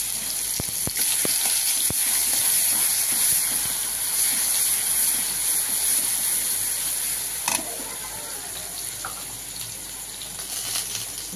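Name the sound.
garlic paste sizzling in hot oil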